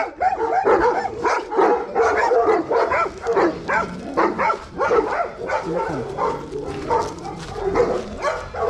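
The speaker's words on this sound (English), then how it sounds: "This is a really beautiful mountain dog." Several mountain dogs barking and yipping in bursts at fairly close range, with some whimpering mixed into the commotion, on the Avila near Caracas, Venezuela.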